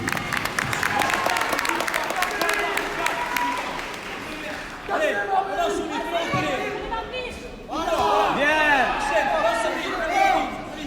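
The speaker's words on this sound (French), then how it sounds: "sous vos applaudissements s'il vous plaît" Spectators at an English boxing gala in Nice clapping and cheering in a hall, with applause at the start, then shouting voices and an amplified announcer over the crowd noise.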